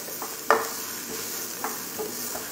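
Chopped onion sautéing in a pan for menudo, with a soft steady sizzle and a few sharp scrapes and clinks of stirring, heard close and fairly quiet without talk.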